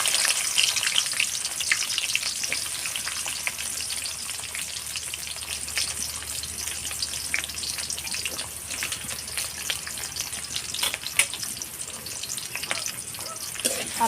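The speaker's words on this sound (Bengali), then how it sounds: "আমার পেঁয়াজ রসুন ভাজা হয়ে গেছে" Chopped onion and garlic frying in a pan of oil for a mutton curry, with a steady bright sizzle throughout and occasional stirring scrapes. No one talks.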